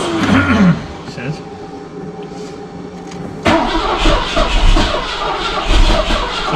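A 1986 Mercedes engine cranks on its starter without catching, a loud close whirring churn that drops to quiet and then resumes with heavier rhythmic turning over, failing to start.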